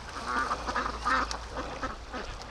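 Muscovy ducks on a free-range farm give a string of soft, breathy calls and low hisses, close and fairly steady over a faint low background hum, with no talking.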